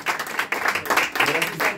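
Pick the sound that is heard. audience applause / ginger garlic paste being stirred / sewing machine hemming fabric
audience applause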